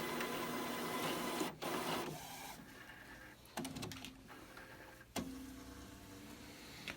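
The cartridge carrier of an Epson WF-7610 inkjet printer slides across to its change position with a steady mechanical whir and hum. A few brief clicks and stops break the motion, nearby and moderately quiet.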